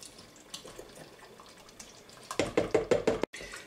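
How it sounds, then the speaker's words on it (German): Water splashes and gurgles into an Instant Pot in a few quick pulses while making bolognese, with faint kitchen knocks before and a brief clatter near the end. "Ein bisschen Wasser, nur ein bisschen erstmal."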